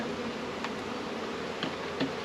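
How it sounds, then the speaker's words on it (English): Honeybees from a newly installed package buzz around the hive, a faint steady hum with a few closer bees droning past. "Now there's bees everywhere."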